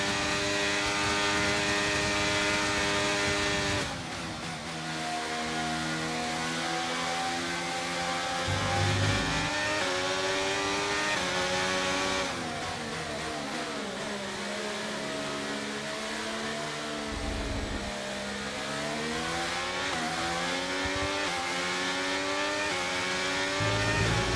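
F1 race cars roar through the final lap in the F1 23 video game, a loud, sustained engine whine that rises and falls with gear shifts and revving, with no talk over it.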